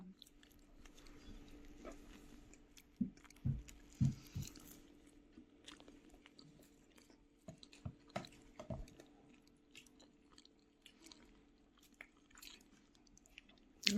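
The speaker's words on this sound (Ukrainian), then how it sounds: "Я жую." Someone chewing food, soft wet munching and occasional crunchy bites at close range, irregular and quiet over a low steady hum, with no talk.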